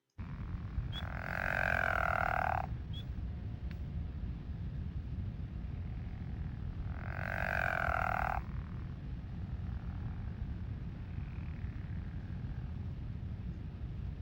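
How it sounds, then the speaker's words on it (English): Two snore-like calls from a pickerel frog, each a rough, drawn-out croak lasting under two seconds, separated by a long gap over a faint, steady background hiss. "So the pickerel frogs have this snore-like noise."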